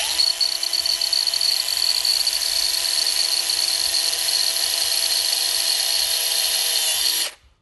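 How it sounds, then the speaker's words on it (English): A 3/16 drill bit bores through the plastic grille shell of a 2013 Dodge Ram 1500, giving a loud, steady high-pitched whine that holds for about seven seconds and then cuts off abruptly. "take our 3/16 drill bit, and you want to drill fairly close to the outer edge on each one"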